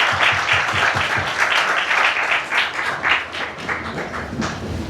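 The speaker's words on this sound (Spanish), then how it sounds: "Un aplauso." An audience applauds steadily at a Deep & Biotech Investment Summit panel as the panelists are introduced, a dense, sustained clapping that stays fairly loud and even for the full five seconds.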